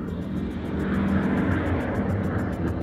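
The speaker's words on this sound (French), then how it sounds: "Elle entendait le moteur rugir." A fixed-wing airplane engine roars steadily and loudly as the plane approaches, a continuous broad drone with a low throb and no pauses, heard alone without voices.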